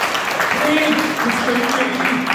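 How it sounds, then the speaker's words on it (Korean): An audience at a book concert event in Ansan applauds steadily, a continuous wash of clapping running under a voice speaking over it. "우리 안산 사람으로서 박수 한번 쳐주시고 감사합니다"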